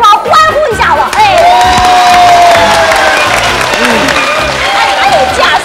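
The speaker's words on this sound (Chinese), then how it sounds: "为拳王欢呼一下吧" A studio audience on a TV variety game show cheers loudly for the finger-guessing champion trying on his belt, mixing applause, whoops, whistles and shouting voices in a lively, close roar.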